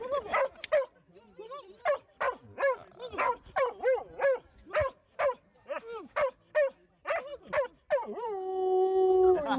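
A dog at an outdoor festival gives a rapid run of short, close, loud yelping barks that bend into howls, then trails into a long sustained howl at the end.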